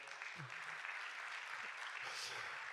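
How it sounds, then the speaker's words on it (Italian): Audience applause at a live Christmas folk event broadcast from Tortolì, a steady wash of clapping throughout with a voice briefly heard over it. "Va bene, un applauso a Enrico."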